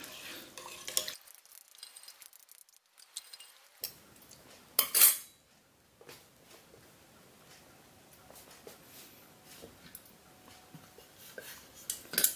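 Congee ingredients with salt and pepper stirred in a pressure cooker pot, intermittent metal spoon clinks and scrapes against the pot with quiet gaps and a brief louder clatter midway, faint background hiss.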